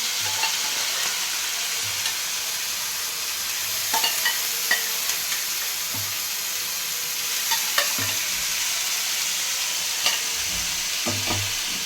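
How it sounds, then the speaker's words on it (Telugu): Precooked mutton keema is stir-fried with browned onion and ginger-garlic paste in an Andhra-style kitchen. A constant close sizzle runs under scattered scraping and clinking strokes of a spoon against the pan. "ఇప్పుడు మనము ముందుగా ఉడికించి పెట్టుకున్న కీమా ఇందులో వేసేసుకున్నాం"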